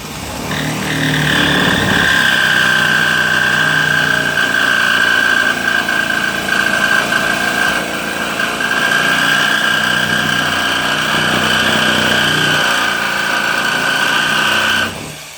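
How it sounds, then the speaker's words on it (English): Electric jigsaw trimming a window piece during a window installation, a loud steady buzzing cut that runs continuously for about thirteen seconds with a strong sustained whine, close by and with no talk. "I'm going to take the jigsaw and just shave this a little bit"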